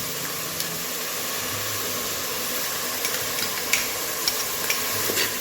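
Garlic-ginger paste frying in a pan with spices such as cinnamon, a continuous close sizzle with occasional clicks of stirring and no voice over it.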